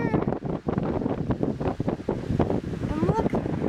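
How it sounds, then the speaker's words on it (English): Gusty wind buffets the microphone outdoors on a construction site, a loud, rumbling roar with fluctuating bursts that continue under a person's speech. "I'm sorry about the wind and I'm sorry about all the cars"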